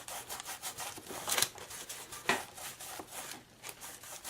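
Shimmer's Pearls paint is rubbed onto a surface in soft, repeated scratchy strokes, a steady back-and-forth friction sound close by, with a couple of slightly louder scrapes partway through and no speech.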